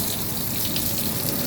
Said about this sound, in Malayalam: നല്ല ജെറ്റായിട്ട് വെള്ളം പോകുന്ന കാണാം